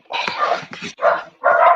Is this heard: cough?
no